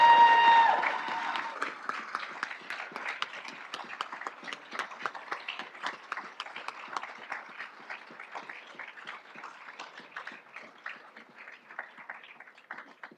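Audience applauding an award winner at a financial health award lunch, a dense burst of clapping that starts strong and thins gradually over about thirteen seconds, heard indoors at moderate distance.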